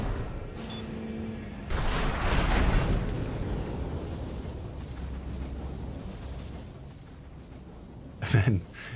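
A container launcher fires in the video game Armored Core 6, with a heavy booming blast and a long rumbling tail, followed by a sharp mechanical clank near the end.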